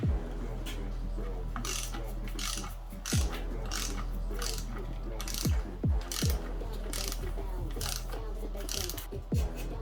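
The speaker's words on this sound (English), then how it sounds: "using your 13mm bolt, you're going to insert this and torque it down" Ratcheting wrench clicks and metallic tool clatter from tightening a 13mm bolt on the oil pickup tube of a 2006 Dodge Charger Hemi R/T, with repeated ratchet pawl bursts and sharp knocks, close by and alone.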